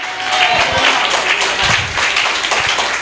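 A church congregation applauding in worship, loud and close, a full, steady roar of clapping with low rumbling underneath throughout.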